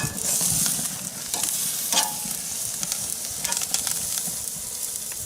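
Steak searing on a Big Green Egg grill during a reverse sear, giving a loud, continuous close sizzle with crackling pops throughout.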